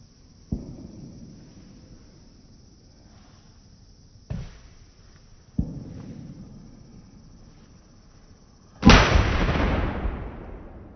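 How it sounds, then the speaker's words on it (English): Fireworks sound effect cued on a livestream, with three separate sharp booms spaced a few seconds apart, each trailing off, then a louder, longer crackling burst to finish, with no talking. "so we're gonna cue the fireworks right here"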